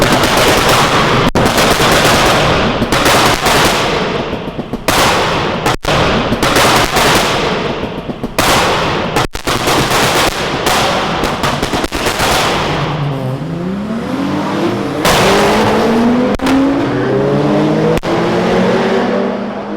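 Tuned 500bhp Audi A4 with a loud exhaust cracking and banging in rapid bursts like gunfire on gear changes, throwing flames, then a rising engine rev sweep as it accelerates hard, loud and close.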